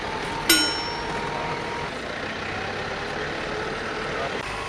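Steady rumble of a vehicle engine while driving, a continuous drone with road noise and one brief sharp click near the start.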